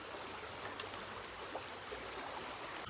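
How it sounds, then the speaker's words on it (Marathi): A babbling river flowing through the Konkan countryside near Guhagar, Ratnagiri, gives a steady, broad wash of rushing water with no pauses, fairly even in level and heard alone without voices. "खळखळणारी वाहती नदी."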